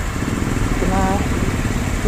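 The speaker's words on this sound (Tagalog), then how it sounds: "Pinaandar yung makina para daw uminit." Euromotors Samurai 155 motorcycle engine idling to warm up after an oil change, a steady close low rumble throughout with a voice speaking over it.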